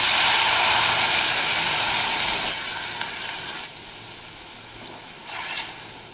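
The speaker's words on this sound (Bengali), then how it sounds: "এবার এই ক্যাপসিকাম, মাশরুম আর পেঁয়াজটাকে একটু সতে করে নেব।" Capsicum, mushroom and onion sauté in butter in a pan, giving off a steady, fairly loud sizzling hiss that eases after a few seconds, with a few faint clinks of utensils.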